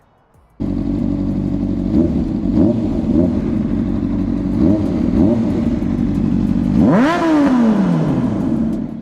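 A Honda CBR600RR with a loud aftermarket exhaust idles with a deep, rumbling note, blipping the throttle several times before a long, rising rev that drops back down.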